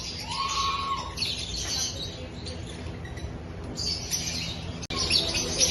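Jumbo-sized lovebirds in an aviary give a few faint chirps over a steady background of ambient noise and rustling.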